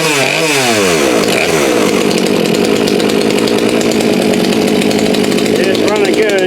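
A Craftsman chainsaw with a newly installed carburetor runs steadily and loudly close by, its engine buzz rising and falling through revs without pause.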